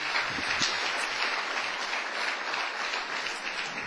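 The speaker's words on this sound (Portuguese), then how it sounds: "Então pode dar outra salva de palmas para o Senhor." A church congregation applauds for the Lord during a sermon, steady dense clapping throughout at moderate volume with no speech over it.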